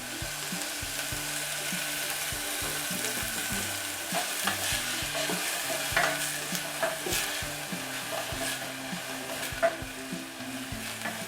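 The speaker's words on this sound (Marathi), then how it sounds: "आपण कांदा परतताना याच्यामध्ये आपण थोडंसं तेल घालूया कांद्यामध्ये" Onion sautéing in oil in a pan for stuffed brinjal masala, a constant close sizzle with repeated scraping and clicking of a spatula stirring the pieces.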